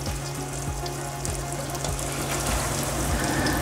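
Cornmeal mush slices frying in a pan over low to medium-low flame give a steady, close sizzle and crackle that holds throughout, with no talking.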